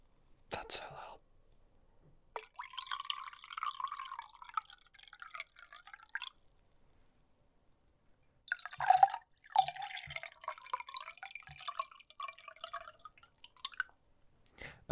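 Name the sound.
water dripping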